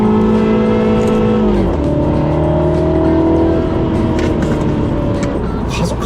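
A Mini John Cooper Works, roughly 280 hp, revs steadily with a deep mix of engine and exhaust note. The pitch holds, dips once and climbs again, loud and close throughout.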